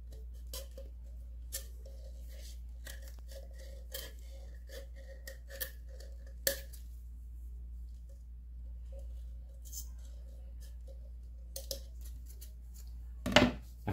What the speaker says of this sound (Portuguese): Se a tesoura não cortar bem.